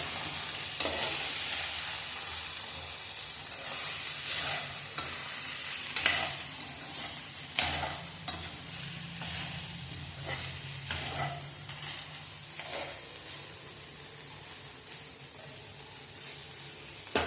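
Soybean chunks sautéed in a pan give a steady close sizzle with frequent scraping stirs of a spoon against the pan, continuing without talk.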